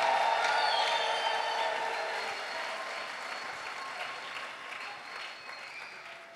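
Large congregation at a church worship service applauding and cheering in acclamation to God, loud at first and then gradually fading as the clapping and shouts thin out, with no speech over it.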